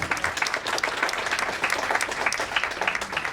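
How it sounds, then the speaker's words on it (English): Audience applause at a memorial lecture, a steady dense patter of many hands clapping throughout, fairly close and with no talk over it. "Ladies and gentlemen, a big round of applause."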